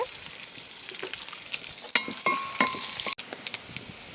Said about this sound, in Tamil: கடுகு, பெருஞ்சீரகம், பச்சை மிளகாய், வெங்காயம், கருவேப்பிலை எல்லாம் போட்டு முதல்ல வதக்கணும்